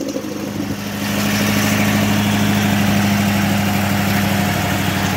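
Engine of an Amtex Inferno Core heated carpet-cleaning unit cranking, then catching and settling into a steady, loud idle with a strong low hum, close by with no talk.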